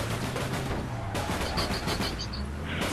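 Gunfire in the APB video game, rapid bursts of shots crackling over a continuous vehicle-like rumble, loud and close, with no voices in between.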